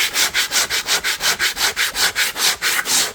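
Hand sanding wood with coarse, thick-grade sandpaper: a brisk, rhythmic rasping of quick back-and-forth strokes, about five per second, close and loud and steady, with no voices.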